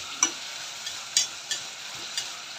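Food is sautéed in a pan, with a steady close sizzle and a few sharp scraping strokes of a utensil stirring at irregular intervals.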